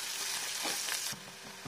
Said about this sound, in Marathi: कांदा याच्यामध्ये बारीक चिरलेला हा सुद्धा सोनेरी रंगावर येईपर्यंत परतून घ्यायचा.